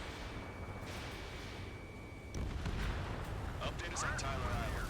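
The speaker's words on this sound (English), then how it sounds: "Artillery fire just missed us from our starboard side." Artillery fire in the Ace Combat 7 flight combat game, a dull boom under a steady jet engine drone, followed by scattered crackling blasts while a voice talks over the action.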